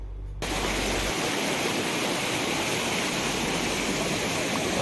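Brimore waterfall near Thiruvananthapuram roars as a dense, steady rush of falling water that starts abruptly and then holds loud and constant, close by, with no voices.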